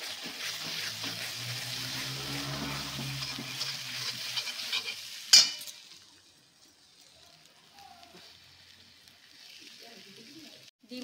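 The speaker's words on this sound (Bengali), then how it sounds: "এবারে এই ডিমটাকে ভেজে নিচ্ছি" An egg frying in hot oil in a home kitchen sizzles steadily at first while a person speaks, then a clatter is followed by a quieter, softer hiss.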